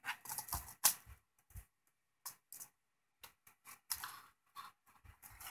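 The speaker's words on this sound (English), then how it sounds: "Now the keyboard should come up." HP 6710b laptop keyboard pried up and lifted off its base: a quick run of sharp plastic clicks, snaps and scrapes in uneven bursts, close and fairly quiet, with no talk.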